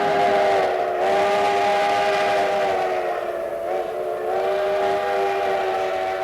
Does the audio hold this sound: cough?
no